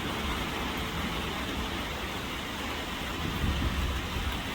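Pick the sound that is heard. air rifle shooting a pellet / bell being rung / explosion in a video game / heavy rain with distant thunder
heavy rain with distant thunder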